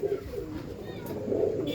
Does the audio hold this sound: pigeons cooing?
yes